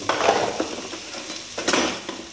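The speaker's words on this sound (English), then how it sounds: "I always start with frying my peppers and my onions first" Peppers and onions fry in a wok, giving a soft, steady sizzle broken by a few scraping stirs of a spatula, fairly quiet and close with no talking.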